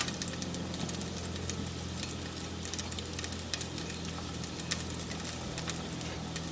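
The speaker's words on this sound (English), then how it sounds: "let this fry for like 30 seconds" Whole cinnamon stick, crushed cardamom and black peppercorns fry in oil with a faint, steady sizzle and scattered tiny pops, heard quietly up close with no voices.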